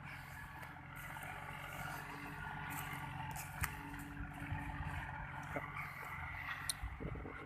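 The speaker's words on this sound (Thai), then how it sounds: "กำลังไถสวยมากเลยครับ ดินก็กำลังไถ" Kubota L4018 tractor ploughing a corn field, a steady low engine drone with faint scraping and soil noise running throughout at moderate distance, with no talk.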